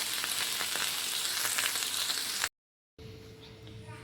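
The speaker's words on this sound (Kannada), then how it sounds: "ಒಂದು 5 ನಿಮಿಷ ಎಣ್ಣೆ ಹಾಕ್ಬಿಟ್ಟು ಹುರ್ಕೊಳ್ಳಿ." Oil sizzles and fries in a pan with a steady, loud crackling hiss for a few seconds, then cuts to silence before a quieter, thinner sizzle resumes.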